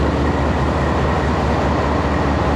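GU20 locomotive number 4554, an American-built 2000-horsepower diesel standing light without a rake on the Lahore to Rawalpindi route, gives off a loud, steady engine rumble that holds without a break.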